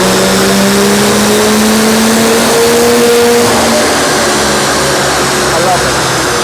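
A loud RT330 Stage 4 engine revving hard on a dyno, a sustained high-volume roar with engine tones climbing, then easing off partway through and holding a steady drone.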